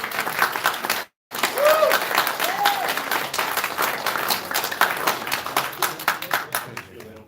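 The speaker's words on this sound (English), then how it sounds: "could we break protocol and just have a round of applause for them?" A public safety budget meeting room bursts into a round of applause for the city's EMS, fire and police, with a full crowd clapping broadly, one brief dropout and voices talking through it.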